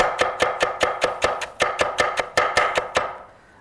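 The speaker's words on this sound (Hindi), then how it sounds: "अब इसे पतला पतला, जितना महीन हो सके, लंबा लंबा तब काटें।" A Chinese chopper slices spinach thinly on a board, about fourteen sharp, evenly spaced knife strikes in a quick steady rhythm, close and clear, ending with a brief silence.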